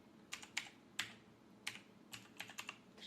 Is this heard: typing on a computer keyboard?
yes